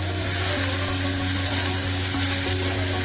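Onions and curry leaves fry in hot oil in a pan for masala avalakki, giving a loud, steady, close sizzle with a faint hum running underneath and no speech.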